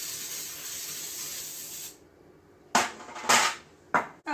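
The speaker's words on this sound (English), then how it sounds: "we're going to spray the insides of our pans so that way the cake doesn't stick to them" Cooking spray sprayed into cake pans: a long steady spray hisses for about two seconds, then three short bursts of spray follow after a pause, close and crisp.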